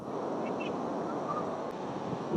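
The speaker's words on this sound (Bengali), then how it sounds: "আর দেখুন প্রচুর বড় বড় ঢেউ আসছে" Big sea waves breaking on a beach, a loud, continuous roar of surf mixed with heavy wind buffeting the microphone.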